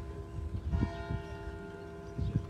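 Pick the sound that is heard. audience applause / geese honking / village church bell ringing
village church bell ringing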